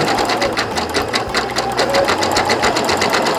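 A sewing machine stitches coiled rope together to build an embroidered rope bowl, running in a loud, steady, rapid whir of stitching from start to finish with no voices.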